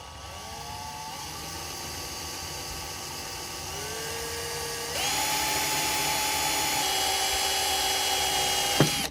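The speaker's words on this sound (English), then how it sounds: "Didn't break the drill bit." A drill bit bores steadily into an old Walden ratchet, its whine rising in pitch in stages and growing louder, then stopping abruptly with a brief squeal at the end.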